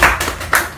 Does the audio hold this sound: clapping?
yes